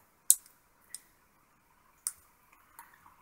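Cutters snip off a resistor's component lead during soldering work, making two crisp, close clicks about two seconds apart, with a few faint ticks after and no talking.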